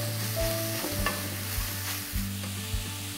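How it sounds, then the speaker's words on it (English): Garlic and chopped root vegetables stirred in a hot frying pan, a steady sizzle with scraping spatula strokes recurring every second or so, close and fairly loud, no voices. "Give it a nice stir."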